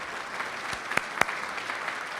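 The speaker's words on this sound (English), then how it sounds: "Let's give these guys a round of applause for helping us today" At a Special Olympics Virginia awards celebration, an indoor audience gives a soft, fairly distant patter of applause, with a few sharper individual claps standing out.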